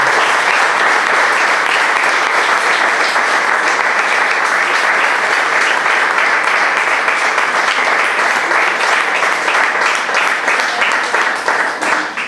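Church congregation applauding loudly and steadily for about twelve seconds, a dense wash of clapping that fills the space with no break, tapering slightly at the end.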